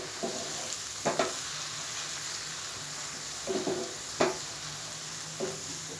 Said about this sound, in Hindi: अब 2 टेबलस्पून के करीब इसमें मैं सोया सॉस ऐड कर रहा हूँ